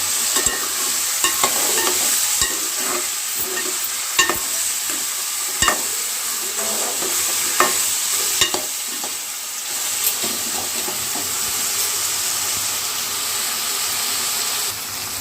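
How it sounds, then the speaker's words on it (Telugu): Soaked chickpeas frying in a pan for a dried-fish curry, a continuous loud sizzle with scattered sharp ticks and crackles of stirring over about fifteen seconds, close up and without talk. "నెక్స్ట్ శనగగింజలు నానేసుకున్నాం కదా, అవి కూడా యాడ్ చేసుకొని ఫ్రై చేసుకోవాలి."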